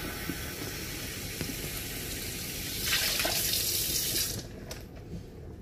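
Water runs steadily from a household tap into a sink, a continuous hiss that swells louder for a couple of seconds before cutting back, with faint background clatter around it.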